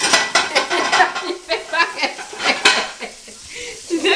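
Fondue sauces being stirred in a pan on the stove, with repeated scraping and clinking strokes over a soft sizzle, close up and continuous.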